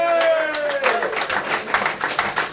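Audience applause for a performer at a small live music event, scattered claps building under a lingering sung or spoken tone at the start, fairly close and continuous throughout.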